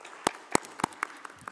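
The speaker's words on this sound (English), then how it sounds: "I think it deserves a round of applause from everybody." Conference audience at an Internet Governance Forum session breaks into brief scattered applause, a handful of distinct claps from a room, sparse and uneven rather than a full ovation.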